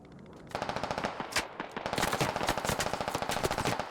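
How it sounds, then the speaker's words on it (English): Rapid automatic gunfire rattles in the Squad Ops military shooter, sustained bursts of close shots with a heavier blast in the middle. "Squid, we're taking shots at Clay."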